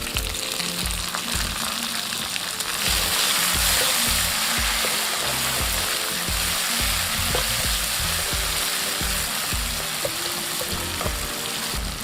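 A large peeled tomato hits hot oil with onions in a pan, setting off a strong, continuous sizzle with bubbling crackle and occasional stirring knocks, close and loud for the whole stretch.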